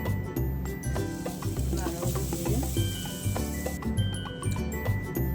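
Freshly grated coconut roasts in a pan as a utensil stirs it, making a soft continuous sizzle with repeated scraping and clinking strokes, while a faint low hum runs underneath.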